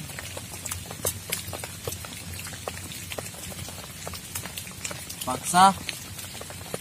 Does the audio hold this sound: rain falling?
yes